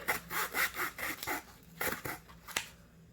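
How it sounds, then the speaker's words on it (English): A cheap hand saw cuts through cardboard in quick back-and-forth strokes, a rhythmic rasping of about a dozen close, moderately loud passes with brief pauses between bursts. "Just cardboard, but with my very improper sawing and using a cheap saw"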